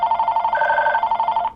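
VTech CS6529-4B cordless handset ringing with a loud electronic trill, a steady warbling tone pulsing rapidly for about a second and a half, close and alone.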